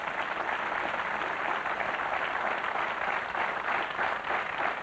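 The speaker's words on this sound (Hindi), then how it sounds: "तालियों के साथ इनका अभिनंदन" A studio audience on a televised quiz show applauds a winning contestant, giving dense, steady clapping that holds at an even level throughout and sounds fairly distant and soft.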